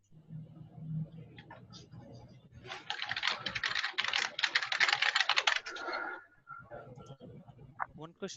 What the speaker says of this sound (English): There's someone typing in the background.